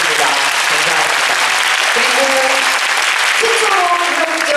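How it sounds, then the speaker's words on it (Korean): Audience applause after a film festival screening Q&A in a packed theater, dense, sustained clapping filling the hall with a speaker's voice talking over it throughout. "다시 한번 뜨거운 박수 부탁드리겠습니다"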